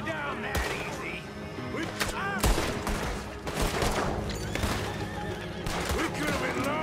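Gunfire erupts in a busy Red Dead Redemption 2 town shootout, repeated sharp cracks mixed with neighing horses, hoofbeats and shouting voices, loud and continuous throughout.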